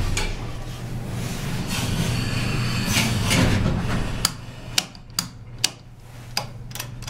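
A 1962 Dover hydraulic elevator door slides open with a low rumbling drag, then several sharp mechanical clicks and clunks ring out in an uneven sequence near the end.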